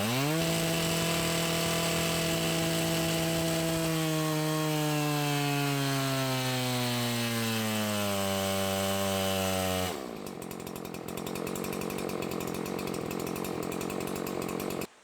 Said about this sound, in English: the OEM saw has more of a rev limiter sound hitting the coil, and our clone has more of a rich sound